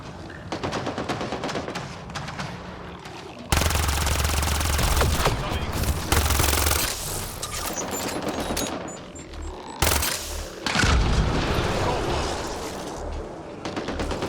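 Remnant bots fighting enemies in Mass Effect Andromeda set off dense, sustained gunfire. Rapid automatic bursts and heavy shots overlap in loud, continuous volleys with a few abrupt swells, and occasional voices sound beneath them.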